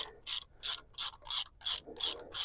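A ratchet loosens the crank pulley bolt on an R53 Mini Cooper S, giving about eight evenly spaced bursts of close, crisp metallic clicking with no talk.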